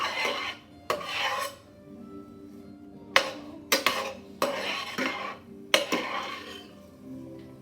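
Diced onions for carne guisada are stirred in a pot, with a series of scraping, clattering strokes of a utensil against metal, several short bursts spaced irregularly, close and alone.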